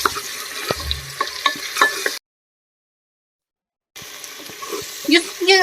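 Ginger garlic paste fries in hot oil for a Kashmiri dish, loud sizzling and stirring scrapes breaking off into a sudden stretch of silence, then crackling again close up.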